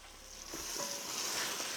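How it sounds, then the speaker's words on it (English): Beef ribs sear in hot oil in a pot, giving off a steady, close hiss and crackle with a few light pops, heard alone without voices. "We're gonna get this seared on all the sides we can."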